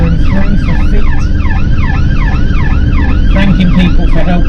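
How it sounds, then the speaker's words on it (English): An ambulance siren wails loudly and close while driving through traffic, sweeping up and down in rapid repeated cycles, then switching to a different tone pattern near the end, over a low engine and road rumble. "Change of sirens to try and get the attention of the bus ahead of us."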